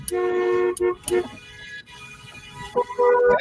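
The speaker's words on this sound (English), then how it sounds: "We're already honking here." Car horns toot repeatedly at a kindergarten parade on an early-morning street, with several loud, sustained honks in bursts separated by brief gaps, near and prominent, mixed with background voices.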